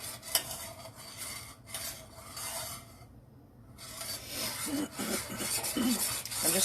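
A spoon rasps and scrapes steadily through thickening chicken and rice casserole sauce in a pot, close and continuous with a short quieter pause, the stirring strokes growing busier toward the end.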